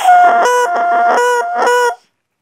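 A bassoon reed is blown on its own to make it crow, producing a loud, close, buzzy, multi-toned squawk in several wavering bursts that stops abruptly before silence.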